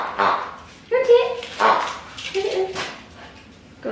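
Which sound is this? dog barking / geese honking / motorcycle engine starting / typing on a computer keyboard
dog barking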